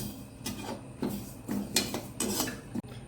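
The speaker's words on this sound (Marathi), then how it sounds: "आता आपण हे हलीम भाजून घेऊया।" Garden cress seeds (halim) are roasted in a pan, stirred with rhythmic scraping and rustling strokes, close and steady.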